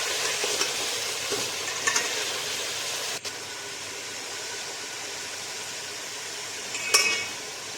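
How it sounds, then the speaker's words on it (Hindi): Beef pieces frying in a pot for nihari, a steady close sizzle with intermittent stirring scrapes and a couple of sharp clinks from the spoon, no talking. "हमने बीफ डाल दिया और इसको भी वाइट होने तक भूनना।"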